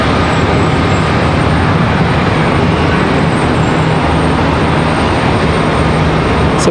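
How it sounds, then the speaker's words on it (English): A Boeing 777 airliner lands at Charlotte airport, heard as a loud, continuous broadband roar of engines and wind that holds steady throughout. "Let that 777 touch down right here in front of us."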